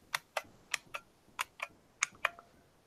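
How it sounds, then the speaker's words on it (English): A 1992 IBM Model M buckling-spring keyboard is typed on close up. About eight crisp, loud clacks come at an uneven pace, each key sharp and distinct against a quiet room. "a lot of people consider these to be like the ultimate keyboard because of the mechanism that they have called a buckling spring"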